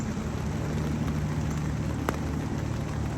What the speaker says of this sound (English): It's starting to rain harder now.